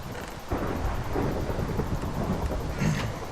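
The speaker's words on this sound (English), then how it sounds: "I'm wondering if lightning is striking" Thunder from a lightning strike in Minecraft rolls in with a sudden crack and then a long, loud rumbling roar that lingers before a second swell.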